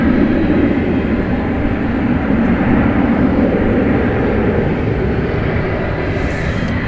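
Martinair aircraft built in 1989 at Dallas Fort Worth International Airport at night, a loud, steady jet engine roar that holds broad and even throughout with no voices over it.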